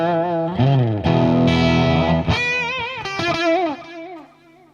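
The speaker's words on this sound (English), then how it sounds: "Here's the kind of the clean signal, clean-ish signal." A Fender Yngwie Malmsteen Stratocaster played through a Marshall 1987X head into a Marshall cab with Celestion Greenback speakers, giving a clean-ish tone as a few ringing notes and chords sustain, bend and then fade away.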